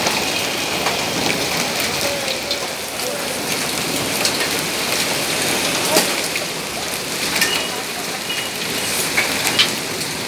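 Hail and heavy rain fall onto a road in Delhi, making a dense, steady hiss of patter and pelting impacts close by, with occasional louder hits and no break in the downpour.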